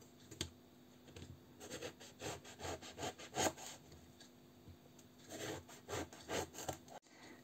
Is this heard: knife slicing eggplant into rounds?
yes